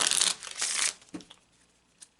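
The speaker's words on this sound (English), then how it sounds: "let's just shuffle the cards with that question in mind." A deck of Kipper cards is shuffled by hand in two quick riffling bursts, close and crisp, then a few soft taps and a faint flick as the cards settle, with no voices.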